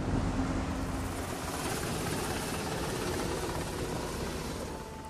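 Helicopter rotor noise, apparently from aircraft dumping water onto a burning navy ship at sea, fills the scene as a dense, constant broadband roar that stays loud throughout, with no talking.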